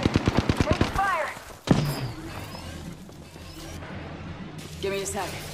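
Gunfire in a squad-based shooter video game: a quick burst of evenly spaced shots, then a sharp blast and a lull with further game effects, while a player talks over the action.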